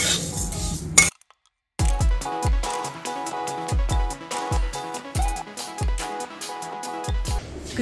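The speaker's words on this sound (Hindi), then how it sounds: "सबसे पहले मूंग दाल है जिसको मैं थोड़ा फ्राई कर रही हूँ" Moong dal frying in a pan, stirred with a metal spoon that scrapes and clinks rhythmically against the pan, with repeated strokes over a steady hiss.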